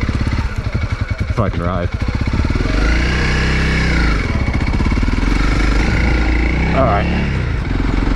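Engine of a 2024 Honda CRF300L dirt bike starting and running on a single-track trail, a loud steady thumping idle with revving swells, heard close up under a man's brief speech.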